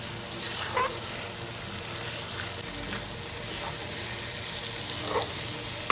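Food frying briefly in a home kitchen pan just before water is added, giving a continuous close sizzle with faint stirring scrapes underneath and no talking.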